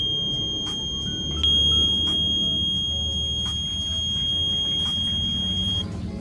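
A continuous high-pitched electronic low-liquid warning buzzer on a sanitizing mailbox sounds steadily, with clattering and background noise beneath it, then cuts off near the end.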